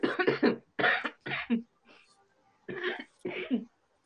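A person coughs several times in a series of harsh bursts, pauses, then coughs twice more close to the microphone.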